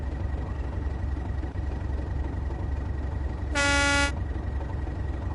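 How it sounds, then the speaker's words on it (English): A single short train horn blast from a Class 37 locomotive in Train Sim World 2 sounds over a steady low rumble of engine noise, bright and tonal, lasting about half a second. "I'm still not convinced by this horn."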